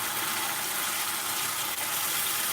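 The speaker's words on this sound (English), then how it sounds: "We're going to add a bit more base gravy now, another" Base gravy for a jalfrezi curry pours into a hot pan, making a steady, soft hissing gush with no voices over it.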